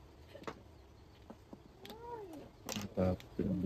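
A cat meows with a rising-falling wail, surrounded by scattered knocks, clatter and people talking nearby in a busy indoor space.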